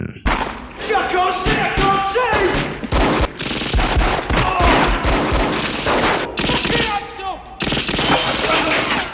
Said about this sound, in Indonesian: Suara tembakan memecah kesunyian malam